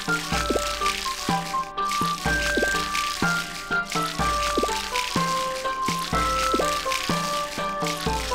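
Crops are watered again and again in the farming game Harvest Moon: Light of Hope, a repeating pattern of splashing pours with short chimes roughly every two seconds over steady background music; no one speaks.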